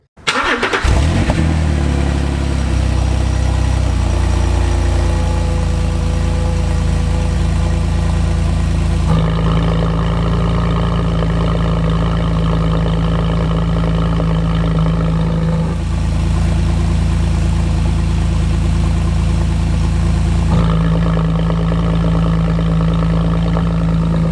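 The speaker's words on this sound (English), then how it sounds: "Let's go ahead and start the car and check out our new exhaust system." Porsche 997.2 starting up through an ECG Performance valved exhaust, then settling into a loud, steady idle with a deep rumble, with brief blips that change the tone partway through and near the end, no talking.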